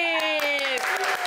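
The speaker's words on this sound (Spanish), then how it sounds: "Sola me aplaudo." A lone talk-show host claps for herself, a quick run of about five crisp, evenly spaced hand claps heard under her own sustained, sliding vocal tone, close and fairly loud.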